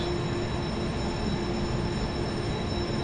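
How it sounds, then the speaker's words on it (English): A slow passenger train in China, one that may carry sleeper cars, rumbles steadily close by, with a continuous low rolling noise and faint high squealing tones running throughout. "That's one of the slow trains."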